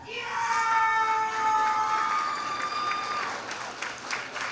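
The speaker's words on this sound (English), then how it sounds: "Sure, you cheer now" An audience cheers and applauds at a pharmacy school white coat ceremony, a loud sustained swell of clapping with whoops and shouts, steady throughout.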